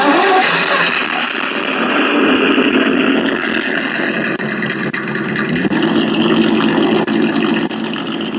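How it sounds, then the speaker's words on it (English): A loud, steady simulated engine rumble from an Axial SCX6 RC truck's dual sound module, with rattling texture and slight revving, running continuously throughout. "it'll make the starting of the engine noises"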